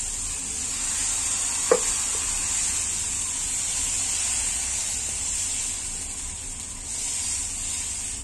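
Whole wheat dosa frying on a pan over very low heat with oil added around the edges, a steady soft sizzle and hiss throughout with one brief clink of a utensil near the start.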